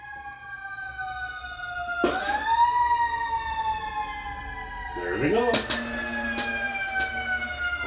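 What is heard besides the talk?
emergency vehicle sirens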